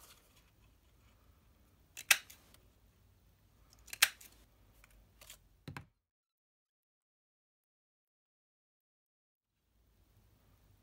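Scissors snip paper scraps for a handmade card in a few sharp, close cuts spaced a couple of seconds apart over a faint background, followed by silence.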